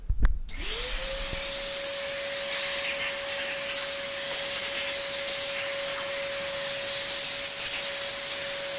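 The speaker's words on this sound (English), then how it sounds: "We use the vacuum cleaner." A vacuum cleaner switches on with a click and spins up to a steady, loud whine and hiss that holds without change, cleaning dust from Bosch Avantixx dryer components.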